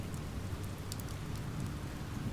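Steady heavy rain in the video game Oxenfree, a dense continuous hiss of downpour with no pauses or voices.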